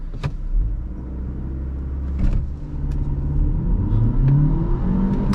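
A Renault Arkana 2024 with a 160 HP mild hybrid engine revs up at launch inside the cabin, a low rumble climbing steadily in pitch over several seconds with a few clicks and taps along the way.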